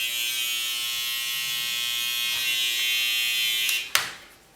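A skeleton hair trimmer works close and tight along a tapered side part, giving a steady high electric buzz that runs nearly five seconds before a brief sharp clatter and a fade at the end.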